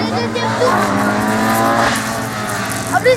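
A Renault Super 5 at a slalom race in the Pays d'Ancenis roars past with a steady engine drone and a brief tire squeal at the end, heard over a commentator's voice.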